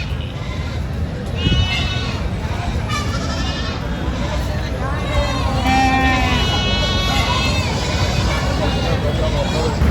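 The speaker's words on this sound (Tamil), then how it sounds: "ஆடு தான் நிறைய இருக்குது." Goats bleat repeatedly at a crowded early-morning livestock market, their wavering cries overlapping near and far above a constant murmur of crowd chatter and voices.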